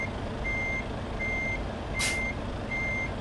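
A truck in the Euro Truck Simulator 2 video game sounds its reversing alarm, four evenly spaced beeps over a steady engine drone, with one short burst of hiss partway through.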